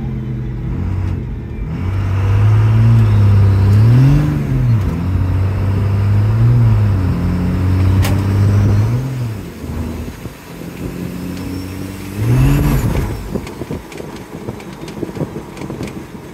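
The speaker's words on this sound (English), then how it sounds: "we need to do a few full throttle runs here" A 2nd-gen Ram pickup with a Cummins diesel and a swapped Allison 6-speed transmission runs at full throttle. The engine revs loud and close, its pitch climbing and falling through repeated rises, then swells in a second strong rev near the end.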